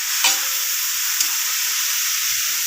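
Meat sautéed with garlic and onion, then cabbage and carrots tossed in for pansit bihon, a steady close sizzle with a few clattering stir strokes near the start, no talk.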